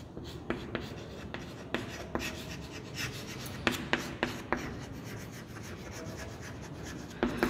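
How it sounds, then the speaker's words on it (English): Pen strokes scratch and rub across paper in short, irregular bursts as someone writes by hand close up, with no talking. "I'll write now."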